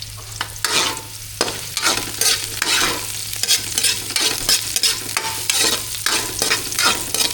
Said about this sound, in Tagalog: Gisa-gisa lang guys.